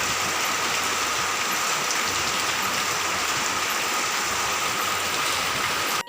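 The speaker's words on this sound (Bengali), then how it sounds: "ভীষণ বৃষ্টি হচ্ছে, ভীষণ বৃষ্টি।" Heavy monsoon rain pouring steadily on surfaces, a dense continuous hiss close by, loud and unbroken until it cuts off at the end.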